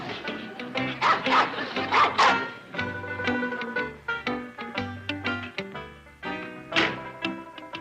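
A little mutt barks in a rural sitcom scene, giving several sharp yaps in quick bursts that mix with music and thumping knocks, fairly close and moderately loud.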